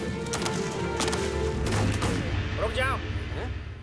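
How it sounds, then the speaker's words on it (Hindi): Cartoon gunfire, rapid loud shots and booms over a dense, busy soundtrack, with voices and cartoon effects sweeping through as the volley continues. "गोली चलाओ।"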